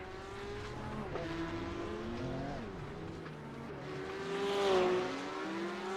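Porsche Cup race cars roar around the Road America track, engines holding a steady drone with gear changes and revving surging closer near the end, no talk over it.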